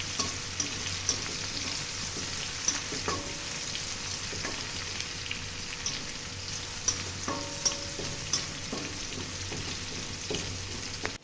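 Crushed garlic and dried chillies sizzle in hot oil in a pan, a continuous close crackle with regular scraping and tapping as a utensil stirs them, no voices present.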